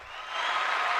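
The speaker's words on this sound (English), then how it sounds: "round of applause for that" A brief round of applause from a small audience, a dense patter of clapping that swells quickly and cuts off abruptly after about a second.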